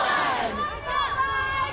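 A crowd at the nighttime Richmond Christmas Parade cheers and shouts, a close, lively mix of many raised voices without pause.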